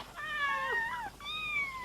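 A cartoon cat gives two clear, high, wavering meows, each about a second long with a brief gap between them. The cat sounds close and there is no talk over it.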